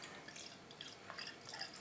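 Williams Brothers Tuvar 80/- ale, a dark ruby Scottish ale, poured into a glass, with soft liquid trickling and dripping sounds running steadily and quietly close by.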